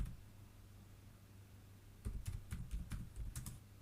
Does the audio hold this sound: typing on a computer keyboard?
yes